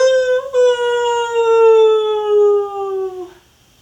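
A person's voice imitates a dog howling at a full moon, a single long sustained tone that slowly falls in pitch and fades out, loud and close with no other sound.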